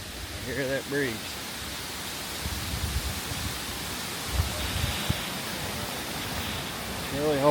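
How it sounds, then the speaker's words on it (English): Strong wind roaring across an exposed mountain peak in Connecticut, a steady broadband rush throughout with someone briefly talking over it. "Very, very windy up here."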